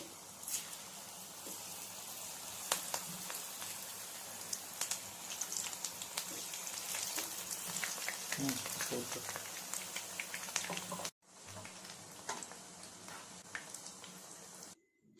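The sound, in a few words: egg chilli frying in oil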